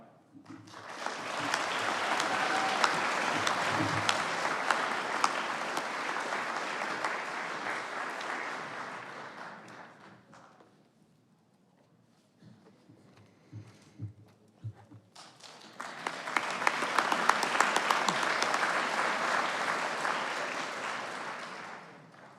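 An audience claps at a Ph.D. hooding ceremony in a dense, sustained round of applause that fades to near quiet, then swells again into a second full round.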